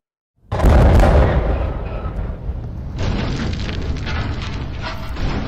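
A launch set off at the end of a countdown bursts in with a sudden loud boom, then settles into a sustained, rough roaring rush that carries on steadily to the end, with no voices.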